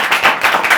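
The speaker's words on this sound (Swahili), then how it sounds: "Wapi makofi ya Grace?" A short burst of applause: several people clapping together in a quick, steady patter at close range, with no talk over it.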